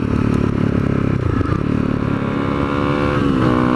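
A motorcycle engine runs loud and close, rumbling steadily with some clatter and a slight rise in revs toward the end, no voices over it.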